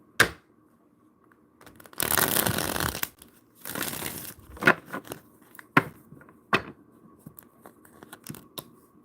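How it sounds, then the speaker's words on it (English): Tarot cards being shuffled by hand, two longer riffling bursts followed by several short, crisp flicks and taps of the deck, close and fairly quiet. "One more shuffle."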